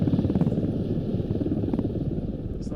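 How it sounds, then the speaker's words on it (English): A video-game helicopter drones with a fast, throbbing rotor chop, loud and steady throughout, with a brief higher tone near the end. "Oh, there's a helicopter."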